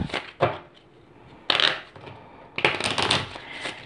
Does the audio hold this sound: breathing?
no